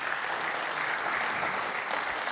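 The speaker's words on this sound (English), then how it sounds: "Let's give a better round of applause." A hall audience at an innovation week event in Kenya's Central Rift applauds a presentation, a dense, steady wash of clapping that holds loud and even throughout.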